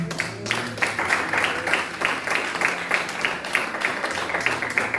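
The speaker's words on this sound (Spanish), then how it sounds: "Denle un aplauso al Señor." A church congregation claps together in sustained applause, a dense, even wash of many hands with no clear gaps, fairly close and steady throughout.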